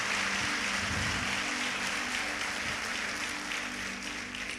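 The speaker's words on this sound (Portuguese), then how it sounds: "Você pode dar uma salva de palmas para Jesus pelo que Ele já fez na sua vida até hoje." Church congregation clapping in praise, a dense, sustained round of applause filling the hall evenly for several seconds with a faint tonal hum beneath.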